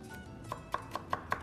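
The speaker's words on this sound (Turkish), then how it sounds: "Doğruyoruz. Doğramış olacağız." A knife chops food on a cutting board in a home kitchen, giving five crisp, evenly spaced taps close by, with no talking.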